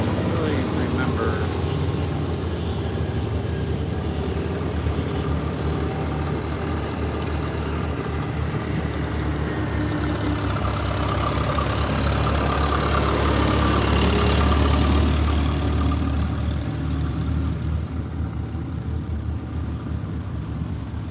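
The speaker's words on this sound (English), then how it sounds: "The engines are loud." Alcohol-burning pulling tractor engines run loudly at a tractor pull, a dense continuous roar that swells in the middle, with talk faintly mixed in.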